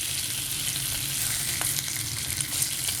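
Bacon fries in a pan with a steady, close crackling sizzle and scattered pops, running on its own without talk.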